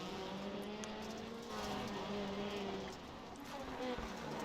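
Rallycross race cars racing on a track, engines droning and revving at a distance in a continuous blur of motor noise.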